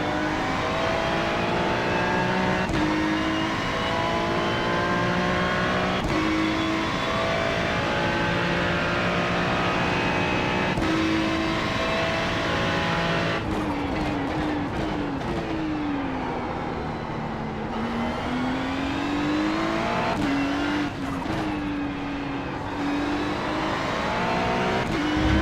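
A Ferrari Challenge race car in a racing video game accelerates continuously, its high engine note climbing through gears with repeated upshift dips, loud and steady for the whole stretch.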